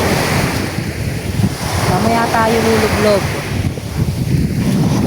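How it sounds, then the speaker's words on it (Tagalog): Strong ocean waves break on a sandy beach, a continuous loud wash of surf mixed with wind buffeting the microphone while someone speaks over it. "Nakulo pa ang dagat. Tsaka ang lakas pa ng alon eh."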